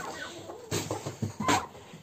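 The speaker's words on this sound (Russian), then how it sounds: "Здесь курицы сидят на этом. Ну, яйцо несут сейчас." Chickens cluck in a henhouse where hens sit laying eggs, a few short close clucks and squawks over quiet background.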